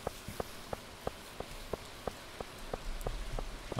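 Rain patters steadily in the Stardew Valley video game, a dense hiss with soft drop sounds and a regular ticking pulse, playing alone without voices.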